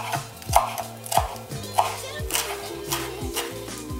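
A knife chops through a rolled-up ball of cilantro on a board, about seven crisp close thuds in an even rhythm, each followed by a short ringing tone.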